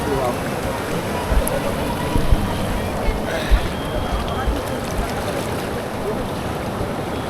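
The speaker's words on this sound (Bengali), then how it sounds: "এরকম জলের স্রোত ওরে বাপ" Fast-flowing Ganges river current at Gangotri in the mountains, a steady loud roar of churning water close by, with a few louder splashes and a voice exclaiming over the torrent.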